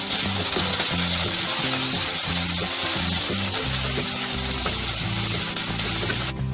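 Onions sauté in oil in a pan with a steady, loud crackling sizzle throughout, punctuated by faint rhythmic stirring scrapes.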